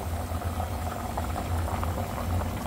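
Ginataang tulingan, a fish stew of skipjack tuna in plenty of broth, boils vigorously in a pot, a dense, steady bubbling and popping rumble heard up close with no talking.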